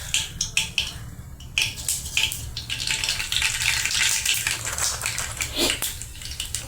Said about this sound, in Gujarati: આપણું તેલ ગરમ થઈ ગયું છે તો આપણે તેમાં રાઈ,